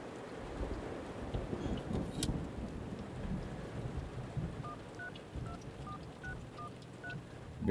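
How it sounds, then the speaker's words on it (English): Artificial rain pours on a horror film set, a steady, dense hiss of falling water heard up close throughout, with a short series of faint beeping tones in the second half. "That's Hollywood rain, everybody."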